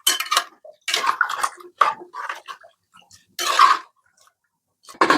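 A spoon stirring cooked tapioca in a pot for street-stall kappa biryani makes short, separate bursts of scraping and clattering, close by, with brief quiet gaps between them.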